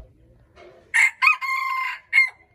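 A jungle fowl rooster crows loudly and close by, a multi-part call with a sharp start, a long sustained middle and a short final note, with faint background noise.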